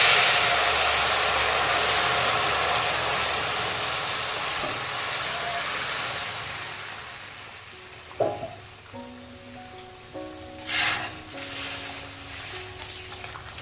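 Ridge gourd and potato dropped into hot tempering oil in a pan, a loud broad sizzle that gradually settles, followed by clinks and scrapes of cooking utensils.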